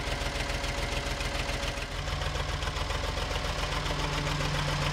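A Ford 550 engine idles steadily at close range while warming up, a continuous low rumble with a fast even pulse and no talking.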